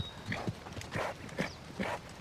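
A horse named Storm clip-clops nearby, its hooves landing in a steady, evenly spaced series of about five clear strikes with no talk over them.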